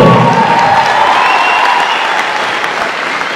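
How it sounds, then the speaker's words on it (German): A crowd applauds a cosplayer dressed as Totoro on stage at a Vienna Comic-Con costume contest, loud sustained clapping with faint cheering mixed in, fading slightly toward the end. "Applaus für Caroline Taschler als Totoro"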